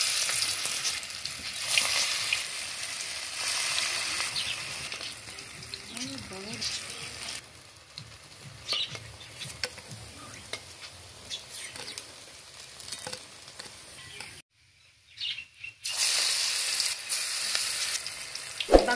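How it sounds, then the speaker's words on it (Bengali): Mustard flower pakoras deep-fry in hot white oil in a kadai, giving a steady, bright crackling sizzle with some stirring. The sizzle briefly drops away and then returns loud and full. "তেতে গেছে, আমি পকোড়াটা ভেজে নেব।"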